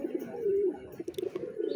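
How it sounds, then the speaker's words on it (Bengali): Jalali pigeons feeding on a rooftop coo nearby, with one drawn-out throaty coo amid shorter pulsing notes and light pecking sounds. "এই যে জ্বালালি কবুতরগুলো দেখেন খাওয়ার স্পিড দেখে"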